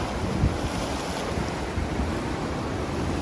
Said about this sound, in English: as the seas are stormy and rough